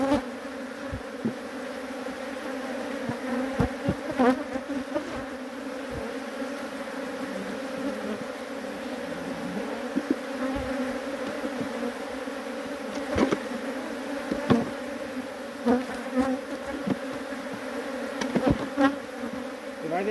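A swarm of bees buzzes around honeycombs in a hive, a steady, close droning hum with individual insects swooping past now and then, and occasional soft knocks and rustles, no voices.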